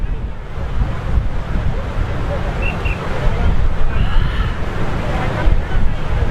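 Waves and wind at a Mumbai beach form a constant, loud, close rumbling wash, with wind buffeting the microphone and faint bustle in the background throughout.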